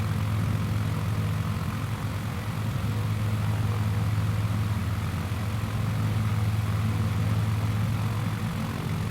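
A small propeller plane takes off in Microsoft Flight Simulator 2020, its engine droning in a loud, steady, continuous hum with propeller buzz and no talking.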